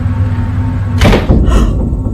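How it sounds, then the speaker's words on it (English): Two doors swing open on their own in a dim room, heard as a short thud and a scraping whoosh followed by a second softer rush, close and fairly loud over a steady low hum. "Somehow, the two doors open on their own, seemingly at the same time."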